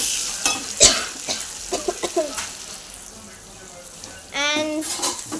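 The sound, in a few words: food deep frying and being stirred in a pan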